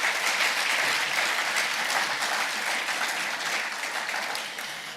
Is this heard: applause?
yes